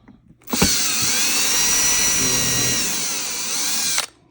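A power drill fitted with a 1/8 inch bit bores into a board. It starts abruptly, holds a loud, steady high whine close by for about three and a half seconds, then cuts off sharply.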